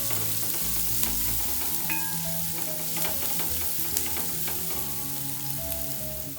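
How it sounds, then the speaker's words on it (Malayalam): Sliced onion frying in a pan for fish head curry, a dense steady sizzle with repeated scraping and clinking stirs, close and without voices. "ഈ സവാളയും കൂടി ഇതിൽ കിടന്നിട്ട് നല്ലൊന്ന് മൂത്ത് വരണം"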